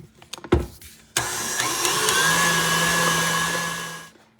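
A steady electric mixer whirs continuously at close range while beating whipped cream icing, starting abruptly after a few clinks and running at a constant pitch for about three seconds before stopping.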